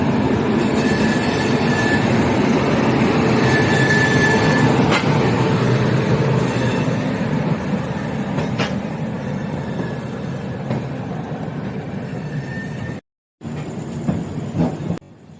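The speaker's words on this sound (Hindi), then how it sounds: "हमारी ट्रेन गोरखपुर जंक्शन से लगभग 4:55 के आसपास निकल चुकी थी" The Bihar Sampark Kranti Express (12565) runs on its rails from Gorakhpur toward New Delhi, heard from inside a 2AC coach as a steady loud rumble with periodic wheel clacks and a brief cut-out near the end.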